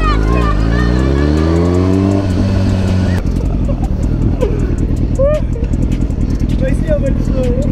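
A motorcycle revs hard and accelerates away, its engine pitch climbing in rising sweeps before shifting, loud and close, with voices talking over the engine noise.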